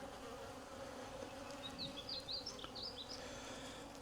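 Honeybees from a swarmed colony hum around an open hive during a yard inspection, a dense, steady buzz close by with no voices over it.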